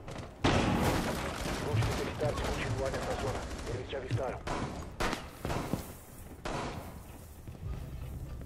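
Gunfire in Rainbow Six Siege, a loud burst of overlapping shots with booming impacts and thuds filling the stretch, while someone talks excitedly over the action.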